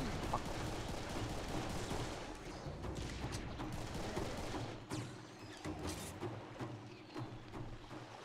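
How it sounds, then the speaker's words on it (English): Explosions and heavy weapon fire in the shooter game Serious Sam 3: BFE, a dense, loud barrage of booms and rapid shots with rumbling low end, easing slightly midway, then continuing with sharp blasts. "So these are explosions"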